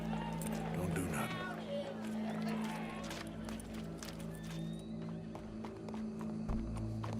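Horse hooves clip-clop steadily through a Red Dead Redemption 2 scene, mixed with a low ambient hum and a murmuring crowd, while voices talk over them.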